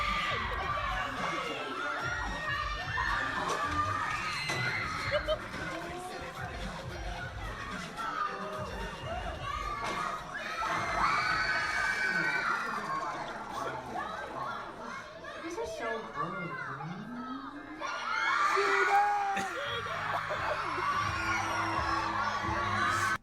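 A crowd screams, whoops and cheers in waves, loud and lively, with people talking over it throughout.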